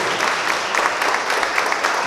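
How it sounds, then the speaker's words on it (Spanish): A wedding crowd in San Juan Tetelcingo claps for the newlyweds steadily in a dense, even patter of applause, with no single voice standing out. "un aplauso fuerte a estos nuevos esposos"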